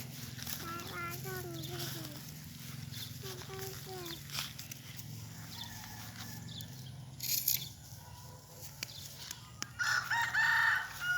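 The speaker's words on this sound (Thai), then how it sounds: "ไก่" A rooster crows twice in the first few seconds, its drawn-out call clear above steady background noise, followed by rustling and scattered knocks.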